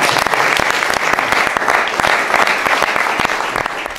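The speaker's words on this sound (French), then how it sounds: "On peut applaudir, hein" Loud, sustained applause from a basketball crowd, dense clapping throughout that stays strong before easing slightly near the end.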